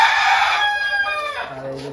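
A rooster on a poultry farm crows once, loud and close, its drawn-out call fading over two seconds while people talk nearby.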